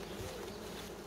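Honey bees buzz at a two-frame hive coming out of winter, a steady, faint, continuous hum with no talking.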